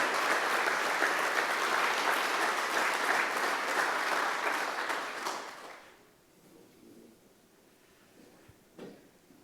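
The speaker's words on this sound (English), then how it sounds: "I would like to have a big round of applause for you guys" Board members are applauded at a global supply chain summit: loud, dense clapping from a large audience fills the first five seconds before quickly dying away into quiet room noise with a stray knock.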